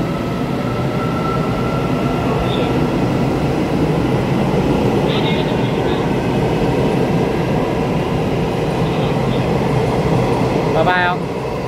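An EMU890+EMU889 electric commuter train pulls out of Su'ao station on the Yilan line, a loud steady rumble of motors and wheels with brief high squeals and clatter, continuous and close throughout.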